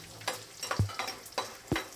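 Small shallots frying in sesame oil in a clay pot for tamarind curry, a soft sizzle broken by a few distinct knocks and scrapes of a stirring spoon, no speech.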